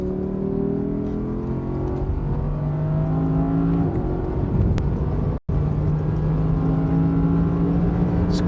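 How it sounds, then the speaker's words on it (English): Official safety car engine at the 24 Hours of Le Mans circuit, a steady loud engine drone rising in pitch through gear changes, with a brief cut near the middle before the engine sound resumes. "Hard on the brakes in this official safety car."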